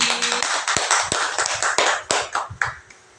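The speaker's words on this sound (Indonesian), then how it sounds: "Tepuk tangan buat Bu Wini." A small group claps during a teacher's classroom presentation: a short burst of scattered, uneven handclaps, close and fairly loud, thinning out and fading at the end.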